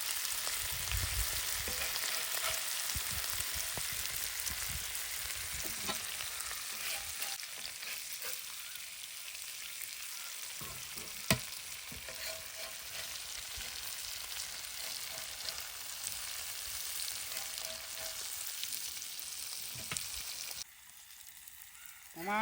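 A large fish fries in hot oil, village style, giving a steady loud sizzle that runs nearly throughout, with occasional stirring and scraping and a brief drop in level near the end.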